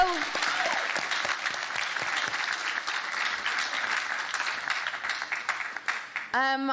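A live convention panel audience at PAX West breaks into continuous applause, many hands clapping in a dense steady wash with a few cheers, ending as a quick burst of sharper claps trails off.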